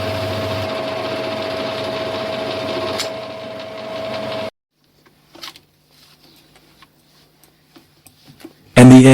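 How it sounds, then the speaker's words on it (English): A metal lathe turns a section of a part to be threaded for a retaining nut, running with a steady mechanical hum for a few seconds before stopping. Faint clicks and handling sounds follow, and a louder knock comes at the very end. "It's then back to the lathe to turn the section that shall be threaded for the retaining nut."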